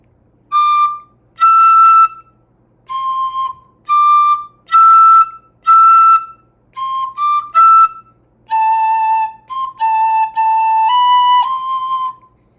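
An Irish tin whistle plays the slow tune Fanny Power in short, bright phrases separated by brief pauses, clear and close with no talking.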